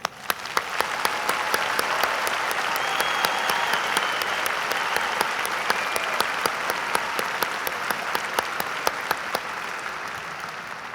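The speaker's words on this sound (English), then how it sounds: "Please join me in a round of applause to honor and congratulate all of our graduates." A large commencement crowd at a university ceremony applauds its graduates, sustained, even clapping filling the hall for the whole stretch, with sharper nearby claps punctuating the broad roar.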